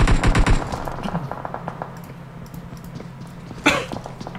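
Gunfire in the PUBG Mobile battle royale during a Thailand pro scrim match: a dense burst of rapid automatic shots at the start, scattered single shots afterward, and one sharp loud crack near the end.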